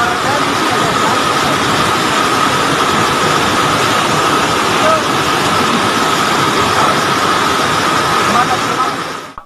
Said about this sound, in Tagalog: Nagdala rin ng takot sa mga Abreño ang malakas na pagragasa ng tubig sa Barangay Dumalig